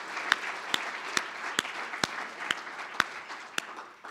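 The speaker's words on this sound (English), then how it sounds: "So let's give Andy a round of applause for the great work he's doing." Applause for an honoree at a hotel-industry scholarship and awards luncheon: a string of sharp, evenly spaced claps rings out over a soft background of room noise, with no talking.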